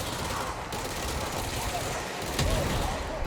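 Submachine gun fire in the video game Control, a steady stream of rapid shots blending into a noisy, crowded firefight while someone talks over it.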